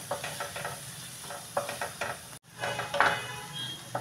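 Tomato sautéing in a pan for shevaya uppit, a soft sizzle broken by rhythmic spatula scrapes against the pan, with a brief dropout midway and then a sharper clatter, fairly quiet and close, no talking.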